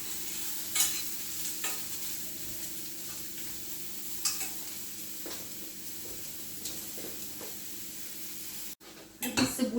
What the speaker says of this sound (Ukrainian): Цибульку вже пожарились, перекладаємо.